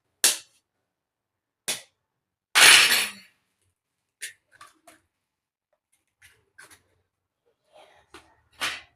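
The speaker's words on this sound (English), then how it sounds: "We're going to take the egg and crack it." An egg is cracked for doughnut dough: sharp isolated taps and cracks, one longer crunching break, then a scatter of small clicks, close and dry with silence between.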